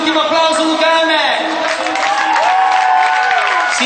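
Crowd at a DJ hardstyle event applauding and cheering, a continuous roar of clapping and whoops that sits behind music and an announcer's amplified voice.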